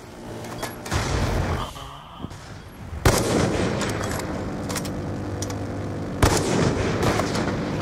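Gunfire in Black Ops 2 during a multiplayer match ending on a headshot: dense loud shots and explosive bursts, with sharp reports near one, three and six seconds over continuous battle noise.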